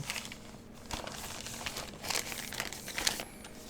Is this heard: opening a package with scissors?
yes